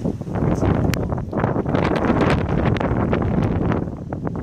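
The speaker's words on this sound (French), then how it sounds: "Le vent joue avec moi." Gusty wind buffets the microphone outdoors, a loud, continuous rush with rough low rumble and rustling swells, no speech present.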